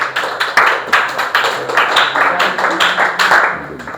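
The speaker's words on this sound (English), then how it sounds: "Okay, give them a big round of applause." Uneven clapping from a small audience after a Grade 9 student presentation on nature and environment, close and fairly loud, with individual claps audible rather than a smooth roar.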